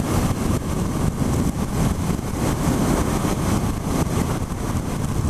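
A Suzuki SV650 motorcycle's engine while riding at steady speed in a 60 limit, a loud, constant low rumble mixed with wind roar throughout.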